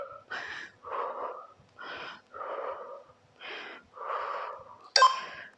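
Heavy, rhythmic breathing during a HIIT cardio workout at home: about eight strong, breathy exhales and wheezing breaths, evenly spaced and close up, with no talking.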